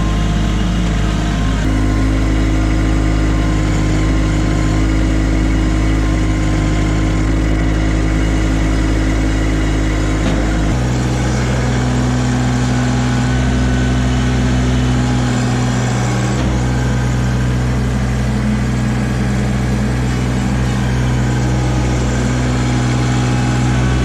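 A Kubota LX2610 compact tractor's diesel engine runs steadily and loud nearby, its drone shifting pitch partway through as the revs change, with no talking.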